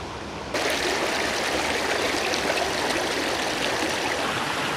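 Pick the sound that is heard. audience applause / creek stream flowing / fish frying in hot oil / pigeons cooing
creek stream flowing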